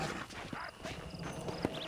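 Horse hooves clip-clop at a steady walking pace in the Western game Red Dead Redemption, fairly quiet, with a faint whinny and outdoor ambience.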